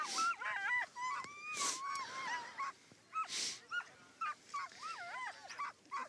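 Sled dogs at the start of a long-distance race yelp, howl and whine excitedly, a chorus of rising and falling cries repeating in bursts, some near and some further off.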